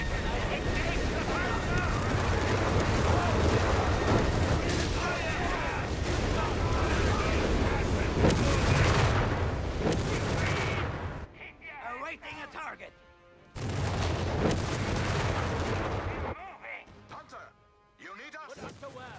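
Heavy gunfire and artillery blasts from a Company of Heroes 3 Wehrmacht team battle roar continuously and loudly, then break into separate booming volleys with brief gaps between them.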